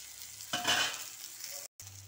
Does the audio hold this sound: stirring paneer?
yes